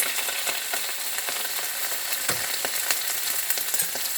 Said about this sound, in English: So I've got the ghee in the pan